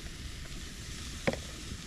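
Food frying in a pan gives a steady, low sizzle throughout, broken by a single brief sharp pop or crackle near the end.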